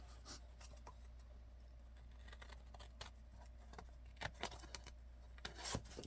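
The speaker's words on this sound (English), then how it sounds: "I'm going to cut this fold." Scissors cut through a folded sheet of paper in a handful of quiet, crisp snips and scrapes, spaced irregularly over a steady low hum.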